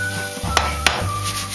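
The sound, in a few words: pancake batter frying in a pan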